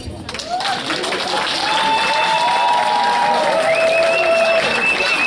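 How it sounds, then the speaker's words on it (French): Guests at a 50th birthday celebration applaud steadily, a dense wash of clapping mixed with whoops and high cheering voices that keeps building over several seconds. "Nous allons l'applaudir"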